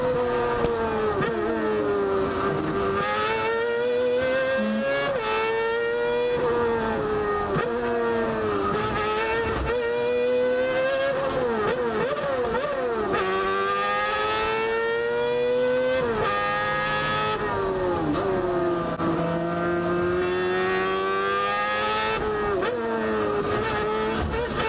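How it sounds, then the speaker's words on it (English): Onboard engine sound from an EK9 hot hatch racing at Castle Combe, sped up so it whines high like an F1 car. It is loud and continuous, rising through gears and falling at each lift. "I sped it up and it sounds like an F1 car"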